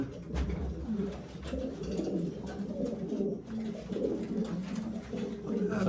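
Pigeons coo continuously in low, throaty rolling calls, several birds close by, with faint chirps and occasional murmuring voices in the background.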